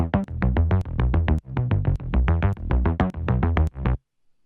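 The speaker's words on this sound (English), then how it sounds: "those basses are the main Poly D bass" Behringer Poly D synth bass line in a rhythmic pattern of punchy, distorted notes, loud and upfront with nothing else, ending abruptly.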